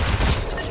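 A shotgun blast in a video game, a single dense burst of loud, rumbling noise with heavy low end that sustains briefly before easing off.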